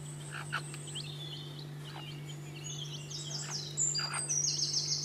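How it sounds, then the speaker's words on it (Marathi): Country chicks chirping in short high peeps, scattered and fairly faint over a steady low electrical hum, with the chirps growing busier near the end. "ही आहेत प्युअर गावठी कोंबडीची पिले।"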